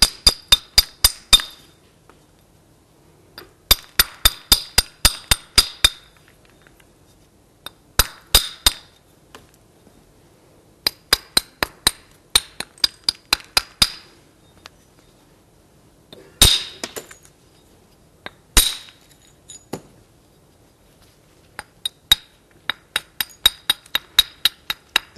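Flintknapping, a hammerstone striking flint while shaping a bifacial knife, gives sharp glassy clicks in rapid bursts of several blows separated by pauses, with a few louder isolated cracks, close and alone.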